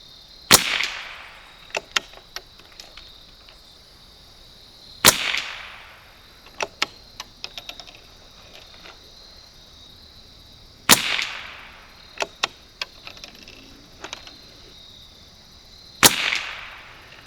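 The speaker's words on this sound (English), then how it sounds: "Again, we're shooting SK Standard Plus on this first go around." A 1972 Anschutz Model 54 .22 match rifle firing SK Standard Plus ammunition, four sharp, close shots spaced several seconds apart, with faint clicks and handling noises between them.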